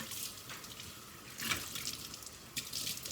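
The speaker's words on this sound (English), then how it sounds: "And then we're going to just quick rinse the vinegar off." Running water from a tap rinses vinegar off cast iron cookware in a sink, a soft, steady hiss and splash with a couple of louder gushes, close but quiet, with no talk.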